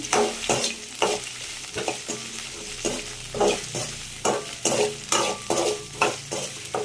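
Chopped okra being sautéed in a pan: a rapid run of spoon stirs and scrapes, roughly a dozen rhythmic strokes against the metal over a steady sizzle, close and moderately loud, with no voices.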